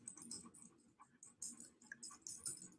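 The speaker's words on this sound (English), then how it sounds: "So yeah, dog's joining me on the live stream now." A dog pants and shuffles right beside the microphone indoors, with quick uneven breaths and soft rustling movement, close and fairly quiet, with no speech.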